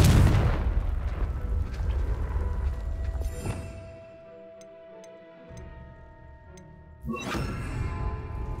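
A Confringo fire spell goes off in Hogwarts Legacy, a loud opening boom and rumbling blast that trails into a low hum with faint ticking, then a second burst near the end.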